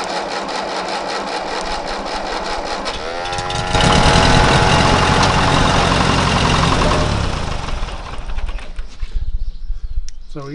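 A Ferguson TE20 tractor engine with a weak ignition spark cranks briefly, then fires and runs loudly at close range before the sound breaks up and fades near the end.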